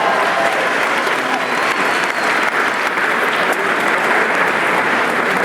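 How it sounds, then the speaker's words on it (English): A large graduation audience gives a big round of applause, a dense, steady roar of many hands clapping at once that stays loud and even from start to finish. "How about a big round of applause for our friend Ed?"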